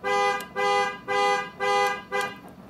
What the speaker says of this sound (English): I'm going to turn on the alarm right here.